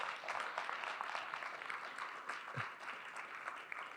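A crowd at a university investor forum applauds startup pitch presenters with a dense, even wash of clapping heard from a distance. The applause stays faint and steady throughout with no voices over it.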